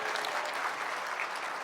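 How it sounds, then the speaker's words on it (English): Audience at a keynote speech breaks into steady, dense applause, many hands clapping together at an even level throughout the short stretch, with no voices standing out. "Give yourself a round of applause."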